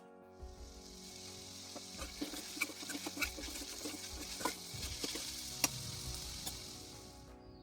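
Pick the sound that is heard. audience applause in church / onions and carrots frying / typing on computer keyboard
onions and carrots frying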